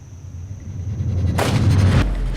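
A single sharp rifle shot cracks out during a roe deer hunt in the Ural forests, one loud broadband blast with a short rumbling tail over quiet background.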